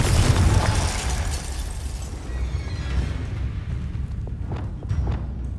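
Confringo explosive fire spell in Hogwarts Legacy: a loud, rumbling blast that opens the clip, then a long crackling decay with small pops and debris.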